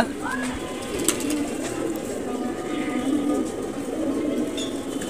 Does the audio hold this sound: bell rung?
no